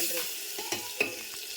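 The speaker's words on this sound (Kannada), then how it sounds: "ಎಣ್ಣೆಯೊಳಗೆ ಫ್ರೈ" Garlic frying in oil in a home kitchen pan, a soft steady sizzle with a few brief stirring scrapes and clinks close by, no talk.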